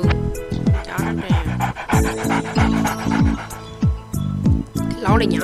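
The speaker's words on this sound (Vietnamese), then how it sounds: "Chó nè." A dog pants in quick repeated bursts inside a mobile game about sneaking into school late, loud and close, with game effects and music layered around it.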